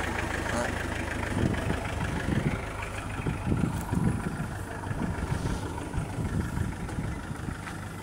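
A Mitsubishi Lancer engine idles with a steady low rumble throughout, while people talk nearby over it.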